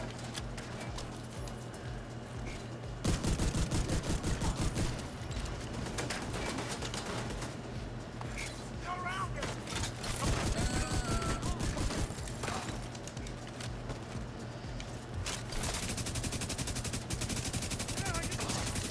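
An AK rifle from The Division 2 fires in long, rapid automatic bursts, loud and close, with short pauses between volleys. The shots ring over constant game noise, and a voice talks along with them.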